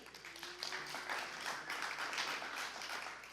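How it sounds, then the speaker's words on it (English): Scattered audience clapping for committee members at a voter letter-writing kickoff event, moderately quiet and steady for a few seconds with faint background murmur. "Yes, we can clap for people, that's fine."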